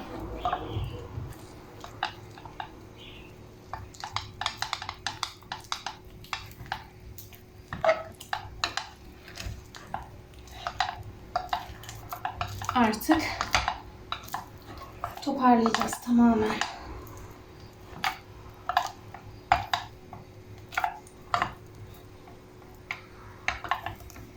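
A wooden spoon scrapes and knocks against a pot as cold porcelain clay dough cooks, giving irregular clinks and taps of utensil on cookware, fairly close, with faint talk in the background.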